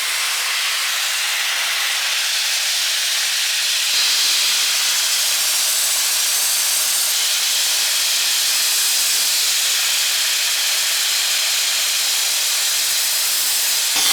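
An ice blaster stripping paint inside the engine bay of a Nissan R34 GTR, delivering a loud, unbroken rushing hiss that holds steady at close range throughout.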